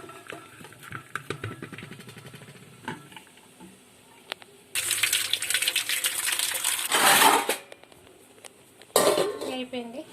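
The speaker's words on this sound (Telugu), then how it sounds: "ఇక ఈ అన్నాన్ని గిన్నెలో కూర్చి తోమేద్దాం" Rice is rinsed in a vessel with water in a home kitchen: two bursts of sloshing, swishing water and grains against metal, the first several seconds long, the second shorter, after quieter handling clatter with a voice.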